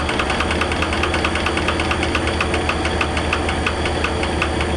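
A Jones & Shipman universal cylindrical grinder runs on plunge feed, giving a steady, loud mechanical hum with a fast rhythmic knocking pulse, continuous and close with no voices.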